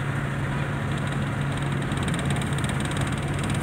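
Suzuki Multicab engine idling steadily in first gear while the clutch is eased out, a constant low throbbing hum with a faint rattle and no change in pace.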